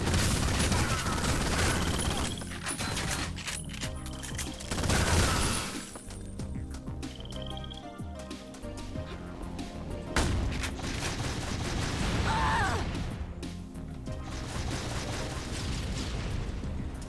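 Enemy rocket launchers fire in the video game Ion Fury, bringing loud repeated blasts and booming explosions mixed with gunfire and crashing debris in a chaotic, continuous battle.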